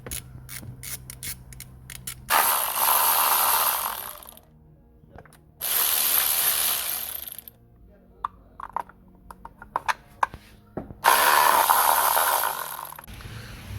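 Inlet manifold bolts come off a 2016 BMW F20 3 Series with three bursts of a loud power tool ratcheting, with metallic clicks and handling noises between them.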